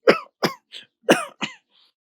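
Someone coughs several times in quick succession, short harsh bursts close by, then falls quiet.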